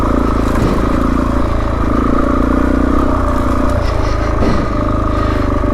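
Suzuki DRZ400E motorcycle riding off-road on a green lane, its single-cylinder engine loud and close with uneven revving as it labours along a rutted track in second gear.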